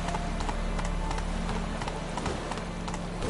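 Steady clip-clop of horse hooves galloping in The Witcher video game, a continuous close rhythmic beat over a low ambient hum, with no voices.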